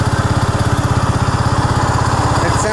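A Honda Rancher ATV engine runs close by at a steady, loud, rhythmic throb, its motor noise pulsing evenly with a chugging beat.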